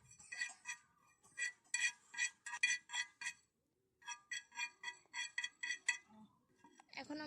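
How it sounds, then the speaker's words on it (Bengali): Cumin seeds dry-roasting in a pan are stirred with a metal utensil, giving rapid, rhythmic clinks and scrapes in two bursts separated by a short pause, quiet and close with no talk. "এখন আমরা জিরেটা হালকা খোলায়, শুকনো খোলায় হালকা করে ভেজে নিব।"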